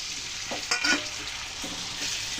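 Three medium tomatoes go into frying onions for a greens and tomato curry, a close, steady sizzle with a brief louder spitting burst and a soft stir, no voices.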